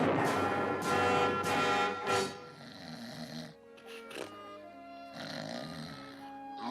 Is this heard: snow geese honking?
no